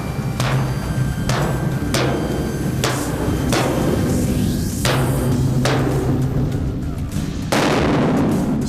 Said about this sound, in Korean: 30분째 계속되는 망치질